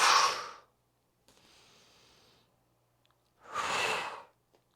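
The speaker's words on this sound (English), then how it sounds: "Exhale." Two forceful, close breaths exhaled during a full-body workout, each a breathy whoosh about half a second to a second long, separated by a quiet pause with a faint softer breath in between.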